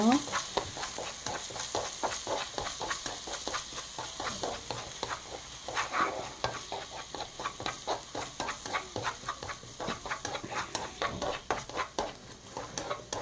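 Garlic and scallion whites fry gently in olive oil over low heat, a soft crackling sizzle with light spatula stirring and ticking, partly under intermittent talk.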